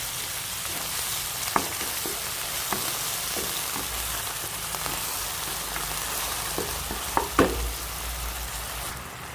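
Beef samgyupsal frying in a pan after soy sauce, pepper, a little salt and oyster sauce go in, giving a steady close sizzle with a few sharp spatula clicks and taps, no talking.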